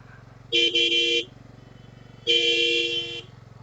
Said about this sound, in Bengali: বলতে বলতেই সিএনজি চলে আসছে